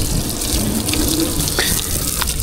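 Water runs from an outdoor tap used for washing at a farm area. The flow is loud, close and steady for the whole stretch, with no talk.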